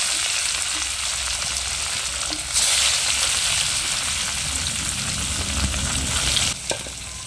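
A fish head drops into hot oil for a lightly spiced fish curry, and the sizzle jumps to a loud, bright crackle that holds steadily before easing off near the end.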